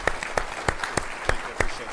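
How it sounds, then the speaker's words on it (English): At an Army Surgeon General ceremony, the audience gives an award recipient another round of applause, heard as a rhythmic run of distinct, fairly close claps about three per second, with some background voices. "Give him another round of applause."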